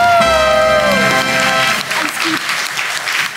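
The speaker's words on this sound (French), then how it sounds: "Un tonnerre d'applaudissements pour toi" Applause swells from a children's TV show audience for a contest winner, entering beneath a fading musical sting and continuing as a steady, fairly loud wash of clapping.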